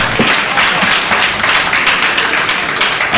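An audience at a live televised event claps for a man, a dense, steady burst of applause close by that holds throughout without talk.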